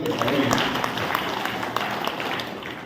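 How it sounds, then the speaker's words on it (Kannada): A crowd at a Lions Club gathering in Alangar breaks into loud applause, a dense patter of clapping that stays strong and then eases slightly, with a voice talking faintly underneath. "ಜೋರಾದ ಚಪ್ಪಾಳೆ"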